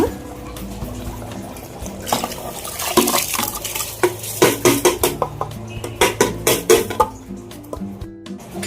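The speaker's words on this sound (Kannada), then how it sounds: "ಇದಕ್ಕೆ ನಾನು ನೆನೆಸಿಟ್ಟಿರೋಂಥ ಅಕ್ಕಿ ಹಾಕ್ತೀನಿ" Soaked rice is tipped into a pot for vegetable pulao, with clinking metal utensils, a short pour and a run of sharp scraping and knocking strokes against the pot. A brief cough is heard in the middle.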